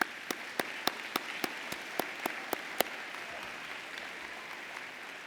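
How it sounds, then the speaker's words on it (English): At a college commencement ceremony, about ten sharp, evenly spaced claps ring out close by over a soft crowd murmur, then stop, leaving faint background noise. "you really do deserve another round of applause."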